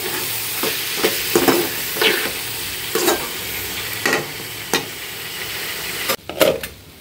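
Potato and green chili bhaji sizzles in a pan as a spatula stirs it, giving about a dozen distinct scraping strokes in a loose rhythm over a steady frying hiss.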